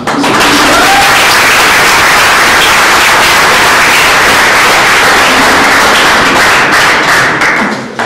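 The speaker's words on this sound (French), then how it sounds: "je vous demanderai d'applaudir très très fort la pièce de théâtre qu'on vient de voir" Loud, sustained applause from a large theatre audience after a play, dense clapping that holds steady before tapering slightly at the end.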